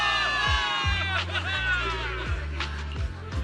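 A large crowd cheers and whoops loudly in a dense, continuous roar, with a low repeating rhythmic tone underneath, in the video game Zenless Zone Zero.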